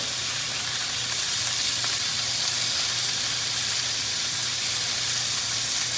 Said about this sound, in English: We're going to cook the pork belly until it gets crisp, a couple minutes on each side.